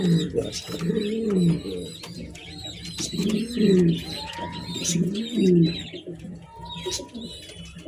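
A caged breeding pair of pigeons gives deep, rolling coos in repeated phrases, close and clear, while someone talks over them and faint chirps sound in the background.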